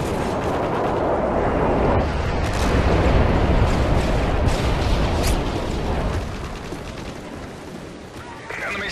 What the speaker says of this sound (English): Nighthawk, you are clear for bomb run on grid 2.